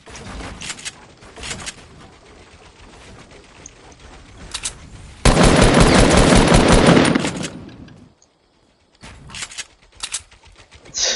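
Gunfire in a PS4 game while shooting down a plane: scattered bursts of rapid shots, then a dense, loud sustained stream of fire that fades into near silence before more shots resume.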